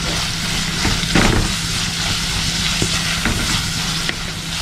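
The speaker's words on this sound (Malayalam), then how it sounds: "നമുക്കിതിനെ നന്നായിട്ട് വഴറ്റിയെടുക്കാം" Bitter gourd being sautéed in a pan on high flame, with a loud continuous sizzle and occasional scrapes and knocks of a stirring spoon.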